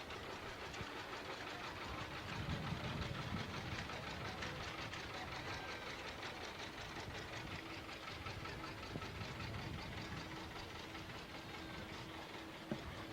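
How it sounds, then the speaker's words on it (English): Tractor, a piece of tractor pull equipment, rolling by in the 1999 Chester, New Jersey bicentennial parade, its engine giving a steady knocking rumble at moderate distance against outdoor crowd noise, with no talk. "here's this last tractor coming by here also is a piece of tractor pull equipment"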